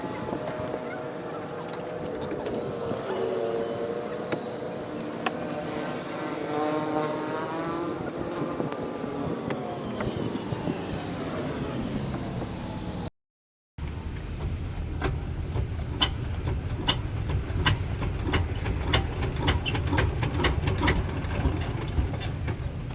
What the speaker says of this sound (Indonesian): mesin yang terpasang saat ini itu adalah mesin 26 HP atau horsepower